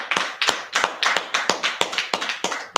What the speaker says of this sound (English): Okay, let's clap it up, clap it up.